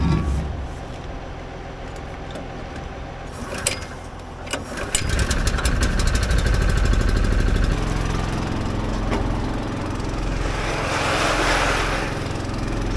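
A pump running on a farm sprayer trailer, a steady loud mechanical drone with clattering rattles early on that settles into an even engine-like hum.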